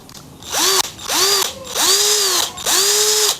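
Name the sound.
cordless drill running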